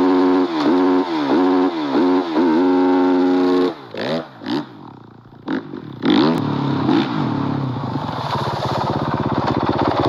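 A motorcycle engine revs hard in quick repeated blips, loud and close, then drops to uneven, sputtering bursts and a rougher running note.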